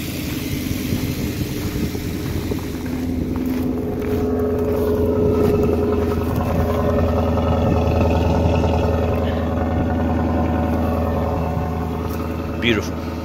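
A 2007 Maserati Quattroporte with a 4.2L V8, freshly repaired, runs at a steady smooth idle with a low continuous engine drone, while people talk over it near the end.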